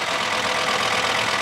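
Dehumidifier running with a loud, steady mechanical rattle like an idling tractor engine, continuous and close throughout with no talking.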